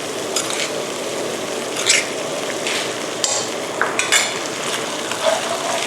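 Seasoning stir-fried in a hot pan with fish sauce and sugar: a steady close sizzle with scattered scrapes and clinks of a utensil against the pan, no talking.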